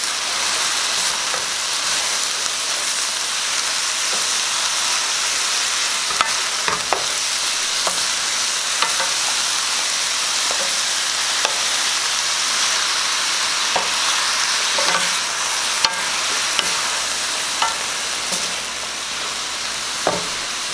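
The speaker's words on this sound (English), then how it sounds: "Give it a stir." Pak choy being stirred and fried in a pan with salt, a steady close sizzle and crackle running throughout, broken by occasional soft clicks of the utensil against the pan.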